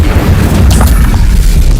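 Incendio fire spell in the Hogwarts Legacy video game, heard as a loud, deep booming blast with a brief crackling burst near the start that rumbles on heavily for the rest of the moment.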